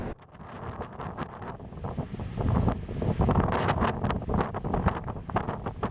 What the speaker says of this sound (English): notice it's that time of the day where the winds are really kicking up